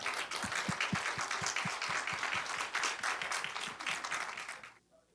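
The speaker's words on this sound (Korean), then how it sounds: "우리 박수로 한번 축복합시다" A church congregation applauds during a Sunday worship service, brisk rhythmic clapping in unison with a warm crowd sound, steady for several seconds before it quickly dies away to near silence.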